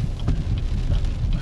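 Heavy rain pours steadily with gusting wind during a hurricane, a dense, continuous roar that stays loud and close for the whole moment, with no voices over it.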